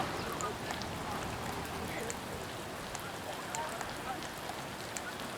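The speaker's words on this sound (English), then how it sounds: "it's raining, pouring, both the tables are all wet, and the ground is all wet" Steady heavy rain pours outdoors onto wet ping pong tables and ground, a dense continuous hiss with scattered patters throughout and no pause.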